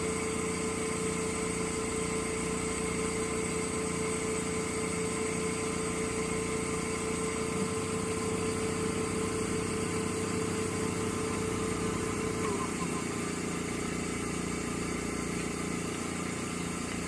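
A Laurell WS 400B spin coater motor spinning up toward 6,000 RPM, a steady high whine with a rising hum that holds constant throughout, close and continuous with no talking.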